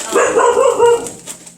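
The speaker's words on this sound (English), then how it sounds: "That's my dog protecting me." A dog barks several times in a quick, close burst, with a slight yelping edge.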